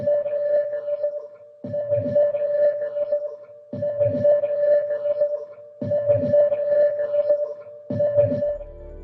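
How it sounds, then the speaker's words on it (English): Sonified electromagnetic emissions from Saturn's moon Titan, converted into sound: a steady droning tone with rhythmic bursts of rumbling, crackling texture recurring about every two seconds, fairly loud and continuous with no voices. "When electromagnetic rays from this supermoon are converted into sound waves, you get something that sounds like this."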